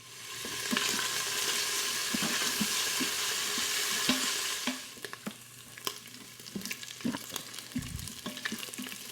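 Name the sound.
food frying in a pan until crispy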